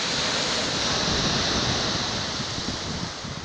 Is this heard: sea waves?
yes